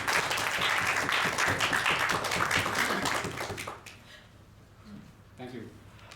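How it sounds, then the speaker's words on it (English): Audience applause at a Toastmasters club meeting, a dense burst of many hands clapping for about four seconds that fades abruptly into quieter room sound with a few stray claps. "And one more thunderous round of applause for inviting me."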